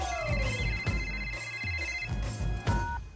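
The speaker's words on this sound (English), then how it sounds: "Let's call her. It's ringing." A telephone rings over a call line, a repeated electronic ring tone in short bursts with brief gaps, heard alone and fairly close with no talking.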